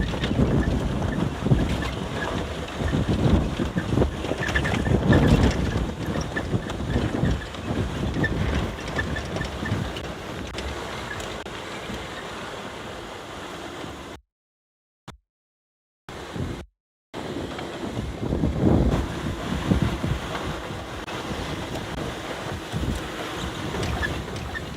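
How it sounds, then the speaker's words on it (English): Strong wind roars and buffets the microphone at a sunset safari outdoors, a loud, continuous rushing with gusts, broken briefly by a few seconds of dropout near the middle. "The wind is just not letting up."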